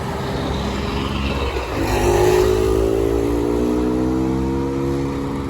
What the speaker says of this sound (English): Motorbike again. Sounds like the one we heard earlier.